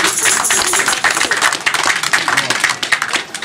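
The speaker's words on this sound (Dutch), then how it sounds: "Hartelijk applaus." Hearty applause from a crowd at the opening of a shooting-guild king's bird shoot, many hands clapping densely and loudly without a break, close by and filling the whole moment.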